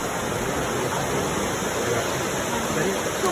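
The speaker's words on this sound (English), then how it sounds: "That's waterfall coming off the mountain in front of our fishing spot." Steady broadband roar of a waterfall pouring off a mountain beside a river fishing spot in Colombia, loud and continuous with no breaks, filling the whole clip at close range.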